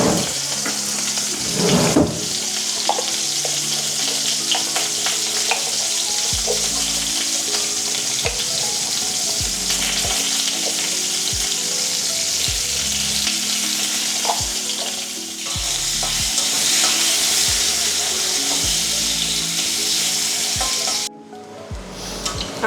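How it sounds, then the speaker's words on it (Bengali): Cut potatoes fry in hot oil in a pan while a fish curry is being made, giving a loud, continuous sizzle with occasional stirring scrapes and clatter. A short pause comes near the end. "মাছ ভেজে নেওয়ার পর কেটে রাখা আলুও ভেজে নেব।"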